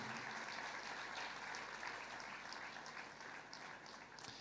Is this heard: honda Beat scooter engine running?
no